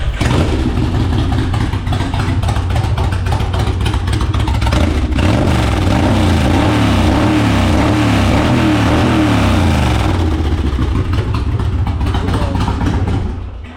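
A heavily modified 2002 Kawasaki Mean Streak cruiser motorcycle with obnoxiously loud pipes revs hard toward redline, a loud, close, continuous engine roar with rising and falling pitch sweeps and no speech.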